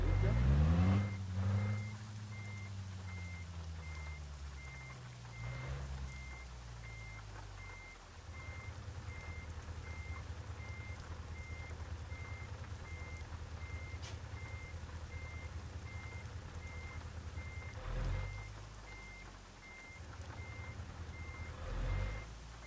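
A Scania truck reverses in Euro Truck Simulator 2, its backup alarm giving a steady, evenly spaced series of beeps over a low engine rumble, with someone talking intermittently.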